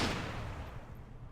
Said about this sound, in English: Sounded like a gunshot.